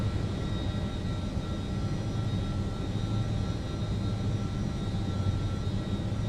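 Engines of an L-1011 TriStar airliner spooling down, a steady dense roar with a faint high whine, unchanging and moderately loud throughout with no talk.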